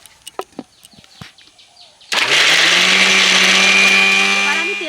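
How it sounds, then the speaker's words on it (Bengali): A mixer grinder starts up and runs steadily as it blends amla into a paste, a loud, close, continuous whirring motor. Before it starts there are a few brief knocks and taps from setting up the jar. "এবার ঢাকনাটা লাগিয়ে নেব আর মিক্সিতে ঘুরিয়ে পেস্ট তৈরি করে নেব"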